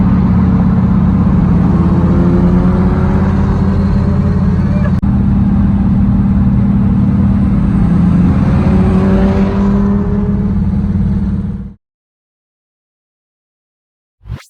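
A quiet Honda Accord sleeper car accelerates hard as heard from outside, a steady low engine drone that holds for about twelve seconds and then cuts off abruptly, followed by a brief soft noise near the end.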